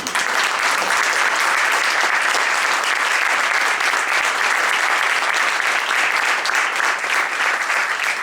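Loud, dense applause from a large audience at a cultural evening, honouring a man standing up, sustained evenly throughout with a thick wash of many hands clapping.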